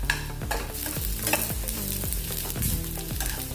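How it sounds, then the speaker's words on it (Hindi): Onions fry over high heat in a pan for sev bhaji while a spoon stirs them, giving a continuous close sizzle with regular scraping strokes and no talk. "ऐसे चम्मच से हिलाते रहिए। तेज आंच पर भुनेंगे तो नहीं तो जल जाएंगे, तो हिलाते रहना चाहिए।"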